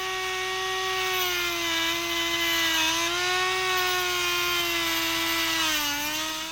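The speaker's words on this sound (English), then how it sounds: "So I just carefully cut around until I can feel where it's just about almost all of the way through." Small rotary power tool carving plastic for a miniature bottle, a steady close high-pitched whine that wavers slightly in pitch as the bit cuts, alone without talk.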